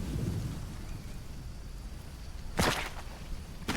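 Steady rain hisses in the jungle of the survival game Green Hell, and a sharp thunder crack bursts out midway, followed by a softer rumble, with no voices.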